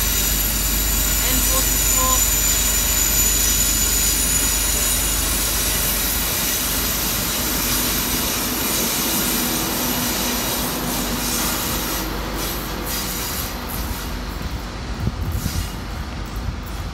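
Albury train service rumbling across the North Melbourne flyover, a loud, steady roar of wheels and engine at moderate distance for the full stretch, with some talk over it and a faint squeal.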